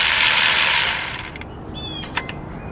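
Ratchet wrench tightening 17 mm starter bolts on a 1999-2003 Acura TL, a loud, close burst of rapid metallic clicking that fades into a few slower ratchet clicks.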